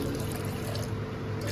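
Water pours in a steady, continuous splash for a moment, close and fairly loud, with no voices over it.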